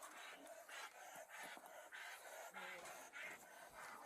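A dog pants in quick rhythmic bursts, close and faint, the breaths repeating steadily with a voice briefly under them.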